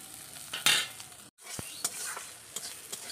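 Neem leaves frying over low heat and being stirred with a utensil, heard as a soft sizzle broken by a few scraping stirs and clinks, with one brief drop to silence.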